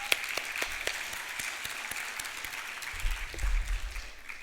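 An audience at an opening ceremony gives a round of applause for a performer named Gopika, producing a steady, moderately loud wash of clapping that holds evenly, with a low rumble near the end.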